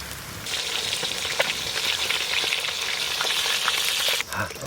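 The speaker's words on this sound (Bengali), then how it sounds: "ঠিক আছে, আমাদের মাগুর মাছ ভাজা।" Magur catfish frying in a pan of hot oil in a village kitchen, a loud continuous sizzle and crackle that swells sharply near the start and runs steadily, then briefly drops before resuming.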